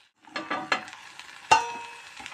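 Okra fries in oil in a pan, with a soft sizzle and a few scraping stir strokes, then one sharper knock against the pan, heard up close.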